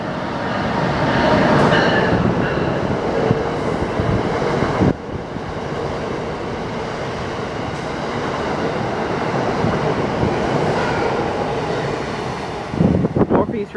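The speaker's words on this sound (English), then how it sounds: "Comes an Amtrak train." An Amtrak Northeast Regional passenger train of eight coaches rushes past close by with a steady, loud roar and rumbling wheels that hold for several seconds before easing off.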